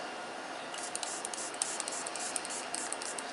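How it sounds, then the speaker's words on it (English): Liquid is sprayed onto makeup as a run of quiet, soft, hissy spritzes that repeat at a fairly steady pace over a low background hiss. "I'm going to spray this more because I feel like this is kind of messing up"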